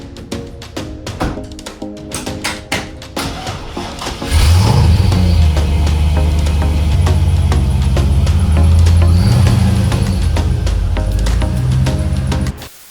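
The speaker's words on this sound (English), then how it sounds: "I actually did start the car up to pull it into the garage" Toyota Matrix car engine starting up and running steadily as it pulls into a garage, a loud sustained low rumble after a few seconds of clatter and handling noises, continuing until it cuts off at the end.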